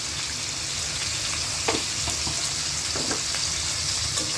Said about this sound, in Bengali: এখন আমরা এটা লাল লাল না হওয়া অবধি একটু ভাজবো।